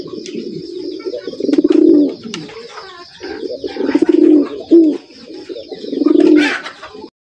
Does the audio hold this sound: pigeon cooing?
yes